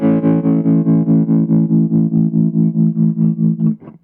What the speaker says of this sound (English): Let's hear the difference between overdrive before tremolo versus tremolo before overdrive.